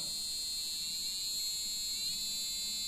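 A high, steady buzzer tone from an Arduino whose pitch is set by a rotary encoder, thin and piercing, holding level with a slight shift partway through, alone and fairly faint.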